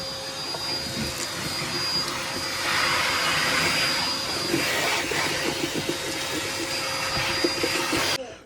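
A household vacuum cleaner runs steadily and loud, sucking up debris in a room, with a continuous broadband whoosh and a high whine that swells slightly midway before cutting off at the end.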